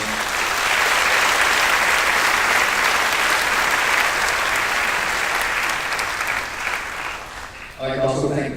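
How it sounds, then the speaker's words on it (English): Long, steady audience applause at a school band spring concert awards segment, dense and loud throughout before cutting to a voice speaking at the very end. "So please give them a round of applause"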